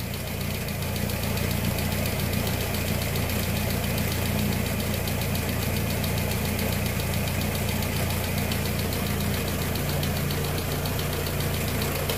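A car engine running at a steady idle after a head gasket change, a continuous close mechanical drone with a faint knocking rhythm throughout and no talking.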